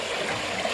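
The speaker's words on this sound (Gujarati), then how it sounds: "એટલું શેરીમાં પાણી આવેલું છે." Rainwater runs through a street after heavy rain in Mahuva, a brief steady flowing and gurgling rush heard at close range without any talk.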